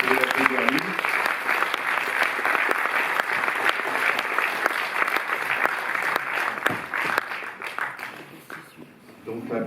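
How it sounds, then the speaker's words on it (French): Steady applause from an audience at a Paris Cinémathèque screening Q&A, honoring director Olivier Assayas: dense, continuous clapping throughout, tapering slightly at the end, with some voices mixed in. "Olivier Assayas, vous pouvez le réapplaudir, vous avez applaudi, vous pouvez l'applaudir lui."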